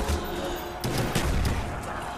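Rapid gunfire from Call of Duty Black Ops Zombies on Xbox One, a dense burst of shots that keeps going loud and close for the whole clip with no voices.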